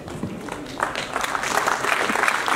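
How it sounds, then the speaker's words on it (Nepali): An audience at a closing ceremony claps in sustained applause, uneven hand claps building and growing a little louder, with faint murmuring underneath. "प्रसन्न मनका साथ खुला हातले हामी ताली बजाइरहेका"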